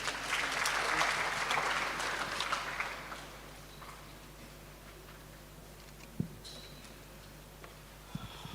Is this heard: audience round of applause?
yes